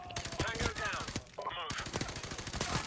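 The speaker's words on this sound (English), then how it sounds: "Right, flashbang time." A flashbang grenade in Call of Duty bursts amid dense, rapid gunfire, loud and close, with a sharp muffled ringing gap in the middle before the shooting resumes, and faint voices underneath.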